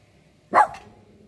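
A puppy barks once, short and sharp, fairly close, against a quiet background.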